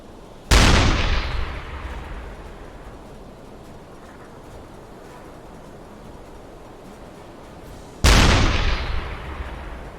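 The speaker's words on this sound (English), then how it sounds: "Let's put some high explosives with him too" A submarine deck gun fires high-explosive shells in the naval game UBOAT: two loud, sharp booms several seconds apart, each trailing off into a rumbling decay over steady ambient noise.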